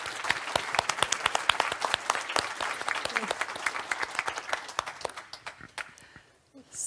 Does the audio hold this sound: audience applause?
yes